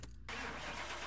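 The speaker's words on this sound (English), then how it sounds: "I am going to quickly jump in and start this one up because it does sound just the same as every other" Supercharged Ford Mustang Shelby GT500 Super Snake engine in Car Mechanic Simulator 2021 fires up after a short click, catching into a steady, close, loud mechanical rumble.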